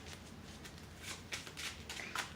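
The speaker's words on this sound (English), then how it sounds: "we'll just do a couple quick shuffles" A deck of Magic: The Gathering cards being shuffled in a few quick bursts, soft riffling and snapping of cards close by, with no talk.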